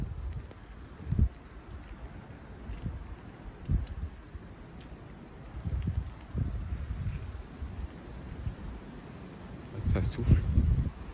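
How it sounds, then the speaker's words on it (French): Gusty wind outdoors under a damp, showery late-winter sky, rumbling low and uneven across the microphone in bursts that swell and fade, with a stronger rush near the end. "Il y a du vent."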